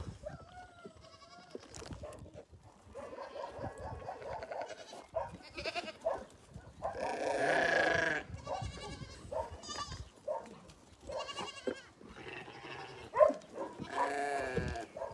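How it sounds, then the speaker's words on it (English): Several goats bleat repeatedly, loud and close, with overlapping calls in an uneven rhythm throughout. "Time to feed the goats"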